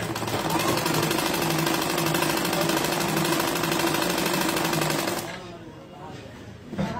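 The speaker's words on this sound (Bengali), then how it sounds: "এখন এই যে আমি সাইড থেকে সুন্দর করে সেলাই করব" A sewing machine runs in a fast, steady rattling chatter while stitching a salwar, going nonstop for about five seconds before stopping abruptly into quiet.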